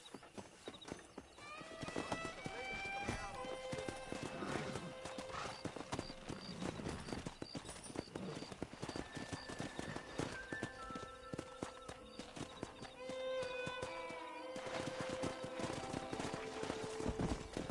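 Horses in the Red Dead Redemption video game gallop with steady, clattering hoofbeats and give repeated whinnies, loud and continuous throughout, backed by tonal game music.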